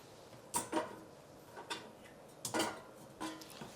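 A non-stick cooking tray and rack slid into an Instant Pot Vortex 5.7-quart air fryer, producing several light metallic clicks and clatters in short bursts, fairly close and quiet, with no talking.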